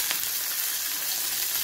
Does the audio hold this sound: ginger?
yes